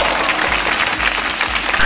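Airline passengers clap after landing a Delta Boeing 747 in a flight game, a short burst of close, dense applause.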